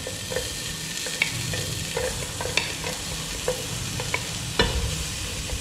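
Ginger and garlic fry in half a cup of oil, a continuous close sizzle broken by occasional sharp clicks of a spoon stirring against the pan, steady and fairly loud, with no talking.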